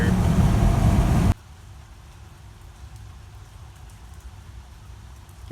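Rain patters loudly on a passenger train traveling through the southeastern US, then drops suddenly to a quieter, steady rumble of the moving carriage.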